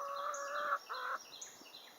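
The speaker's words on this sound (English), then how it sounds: "Hello, chickens." A few soft chicken clucks and trilling calls, close by and brief, with faint bird chirps in the background.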